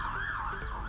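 A wailing emergency siren near Diamond Head, Waikiki, Hawaii, responding to a pedestrian hit by a car, rising and falling steadily, heard at moderate distance over low road rumble.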